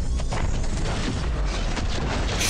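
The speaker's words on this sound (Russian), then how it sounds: "Взрывной эффект." A heavy, booming explosion in the game Transformers: Forged to Fight rumbles on for a couple of seconds, a dense, loud roar with deep low-end weight and no pauses.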